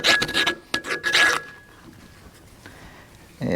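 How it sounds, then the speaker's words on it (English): A wire brush scrubs rust from a hole in a Farmall 140 cultivator arm, with rapid rasping bursts close up, then a quiet pause before another scrape. "Get a little rust out of this hole right here."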